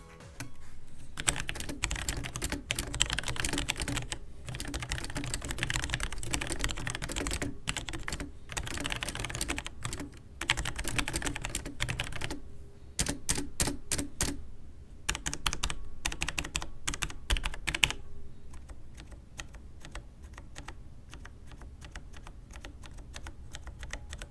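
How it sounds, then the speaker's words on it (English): Rapid typing on a Logitech G810 mechanical keyboard, crisp clicky keystrokes in continuous bursts with brief pauses, close and clear. "And finally, here's a typing test."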